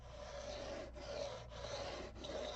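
A sanding block rasps along the frets of a guitar neck during fret levelling, in three steady back-and-forth strokes with short pauses between them, close and fairly quiet.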